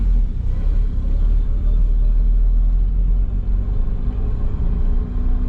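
A Mazda FC RX-7 engine idling fast at around 2,000 RPM from a vacuum leak, a steady, loud low rumble with constant drone and no change in pitch.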